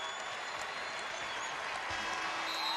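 A home crowd at Gampel Pavilion gives the Huskies a sustained standing ovation after a basketball win over Butler, dense applause and cheering that holds steady throughout.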